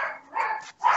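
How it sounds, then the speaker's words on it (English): A pet dog barking indoors, three short close barks in quick succession with brief gaps between them, fairly loud and without talk over them. "And then, that's your doggy."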